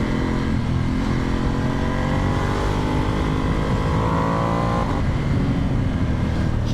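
A Vyrus 1100 cc motorcycle without front forks pulls hard in first gear, its engine loud and close, a dense roar rising steadily in pitch before a brief drop.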